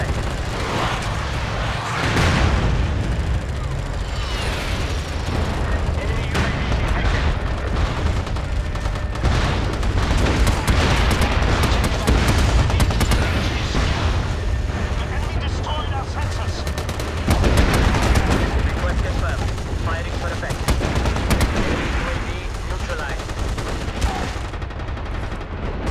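An artillery barrage fires for effect in the video game MAG, with dense, continuous booms and rapid gunfire crackling loudly throughout and a few louder blasts in heavy bursts.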